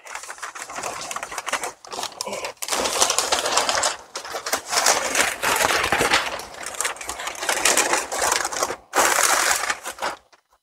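Faraday fabric is folded into an envelope bag, giving close crinkly rustling and crumpling in bursts separated by short pauses, with no talking.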